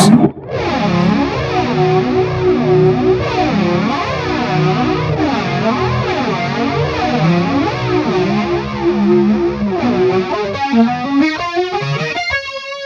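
A loud electric guitar through a Zeus overdrive pedal rings out with thick, gritty sustain and a sweeping, swirling modulation, ending in a rising run of notes.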